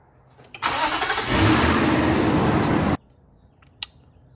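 A car engine cranks and fires up with help from a Rugged Geek RG1000S Plus 1000A portable jump starter, a loud sustained roar that rises and then cuts off abruptly, followed by a few faint clicks.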